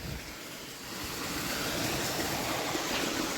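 Water rushing through the outlet line of a sand filter, a steady broadband whoosh that swells slightly after the first second and holds continuous, close and fairly loud with no talk.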